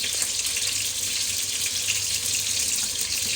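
Tap water runs in a steady, unbroken stream into a kitchen vessel, ready for heating a can of mushroom soup. The flow is close and fairly loud and holds at an even level throughout, with no voices over it.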